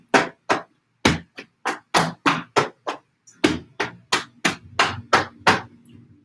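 Fists tap down the front of the body during a qigong routine, a brisk series of about seventeen dull, close thumps in two quick runs separated by a short pause, with no voice.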